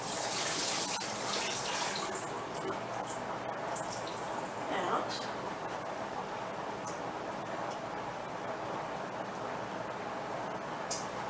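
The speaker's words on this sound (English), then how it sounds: "I'm going to drain my broccoli" Water from cooked broccoli pours steadily out of a pot while it drains, a continuous soft gushing splash at low volume that lasts several seconds.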